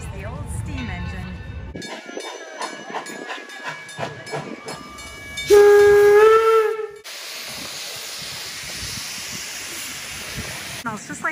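A steam locomotive chuffs and rumbles close by at Greenfield Village, then lets out a loud, sustained whistle blast, followed by a long roar of hissing steam.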